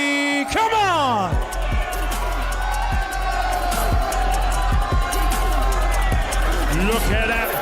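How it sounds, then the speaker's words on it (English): A large crowd at Wembley cheers and applauds in a continuous loud roar, with whoops, horns and bangs over it and a voice speaking through the noise. "Look at the raucous applause from the fans here at Wembley."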